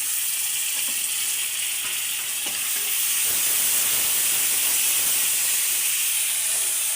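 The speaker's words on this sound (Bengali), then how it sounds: "আর এখন এটা ভালো মতন নাড়া দিতে হবে।" Ginger and garlic paste fries and is stirred in a pan for pigeon meat bhuna, a steady close sizzle with occasional scraping knocks of the spoon against the pan.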